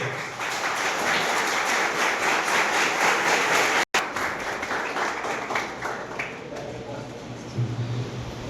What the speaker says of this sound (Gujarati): ખૂબ જબરદસ્ત તાળીઓના સ્વાગત સ્ટેન્ડિંગ ઓવેશન સાથે કરીએ